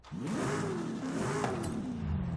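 Stock Alfa Romeo 155 engine in Forza Horizon 5 revving steadily and loudly, a droning mid-pitched growl with rising and falling harmonics that carries without pause through the whole stretch.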